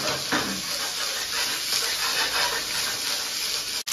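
Shredded cabbage hits hot oil in a pan for Chinese-style poha, giving a steady, loud hiss and sizzle that holds throughout, close up and with no talking.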